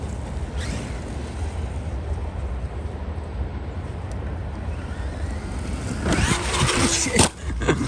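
A Traxxas Maxx RC car fitted with belted 3.8 Sledgehammer tires runs at full throttle outdoors, a steady loud whine and roar under heavy wind noise, rising into a sharper burst near the end.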